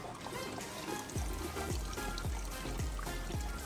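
Water runs and trickles through a DIY hydroponic vegetable garden system just after it is switched on. A faint continuous flow carries a series of soft regular gurgles or drips in its second half, with no voices.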